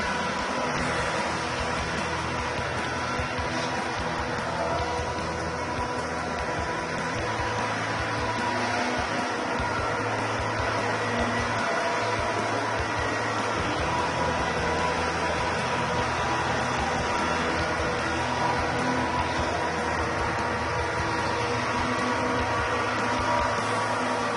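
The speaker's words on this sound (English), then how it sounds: "If I stop, the brushes have stopped, the water has stopped, the vacuum is still on." A Tomcat GTX floor scrubber runs in a hallway with its vacuum motor on, giving a steady, loud mechanical whir and airy roar that holds constant throughout with no talking.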